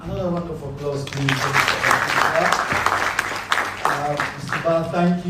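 Audience applause at an International Youth Day celebration, a burst of clapping that swells in the middle while voices talk over it at the start and end.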